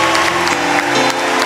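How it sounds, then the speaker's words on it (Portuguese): Church congregation clapping steadily and loudly, a thick wash of applause blended with held musical chords for a brief moment. "Aplauda mais, é para Ele."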